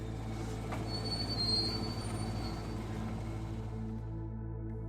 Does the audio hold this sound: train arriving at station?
yes